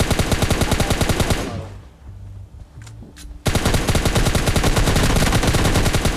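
Rapid automatic gunfire in the battle royale mobile game PUBG Mobile Lite, loud fast bursts that stop for about two seconds of quieter sounds before resuming at full intensity.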